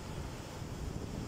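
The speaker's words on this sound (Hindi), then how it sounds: "सैलाब लगा हुआ है, बहुत पानी भर के आ गया है।" Floodwater surges through Sukkur Barrage in Sindh, a steady, dense roar of rushing water with wind buffeting the microphone, no voices heard.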